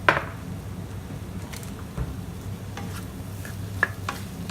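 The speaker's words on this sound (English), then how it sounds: "Stir it in nicely" Chili powder stirred into stir-fried cauliflower rice in a hot pan, light scraping and clinks over a faint sizzle, with a sharper knock at the start and a couple near the end.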